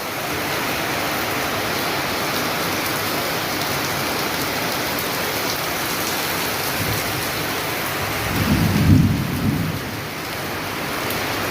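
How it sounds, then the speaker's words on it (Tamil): Heavy monsoon rain pours steadily in Kerala, a dense continuous hiss close by, with a low thunder rumble swelling near the end before the downpour carries on alone. "வெளியே பயங்கரமான மழை பெய்யுது."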